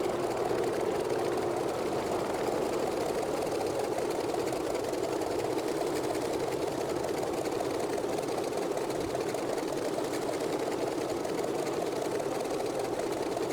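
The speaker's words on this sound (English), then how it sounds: "we'll let the engine idle around 1000 RPM until we shut down" Grumman F3F radial engine idles at about 1000 RPM in Microsoft Flight Simulator, a steady, unbroken low rumble with an even mechanical chatter throughout, alone and unchanging.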